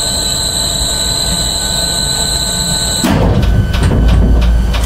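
A repaired elevator, just fixed after storm damage, runs with a loud, continuous mechanical hum and rumble that turns rougher and heavier partway through, with rattling clanks as the machinery keeps going, close by and without talk.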